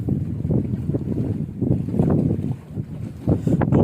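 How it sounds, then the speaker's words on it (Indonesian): Strong sea wind buffets a small fishing boat out hunting giant trevally, a low, heavy roar gusting against the microphone with brief lulls before rising again. "Anginnya kenceng coy."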